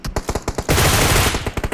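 Rapid automatic gunfire from the mobile battle royale game BGMI, loud bursts of repeated shots followed by a sustained roar of continuous fire, then more spaced single cracks, with no talking.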